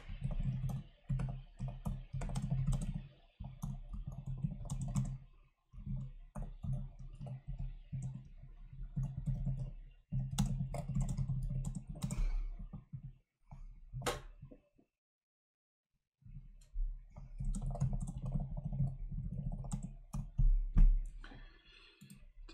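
Rapid typing on a QWERTY computer keyboard during a Marvel Rivals gaming stream, with bursts of close clicking keystrokes separated by brief pauses and one longer silence, over a low background hum.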